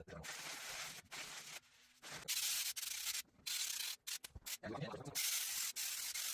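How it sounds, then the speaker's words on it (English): Light sanding over a patched hole in a wall, with bursts of dry, hissing abrasive strokes that start and stop in an irregular rhythm, close and fairly loud, with brief pauses between passes. "Just sand it down lightly."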